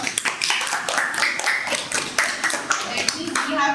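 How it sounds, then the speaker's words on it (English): Schoolchildren in a geometry classroom clapping for a classmate, a dense, uneven patter of many small hands, with children's voices and chatter mixed in throughout. "Clap for Aisha."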